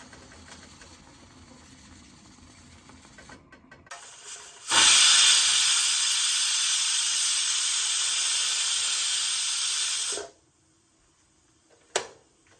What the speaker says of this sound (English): when you see the steam coming out, put the whistle on and let 1 whistle happen.